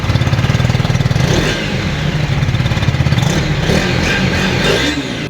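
A KTM Duke 250 with an underbelly exhaust idles and blips its throttle nearby, a steady pulsing thump with short rev swells, loud and alone without talk.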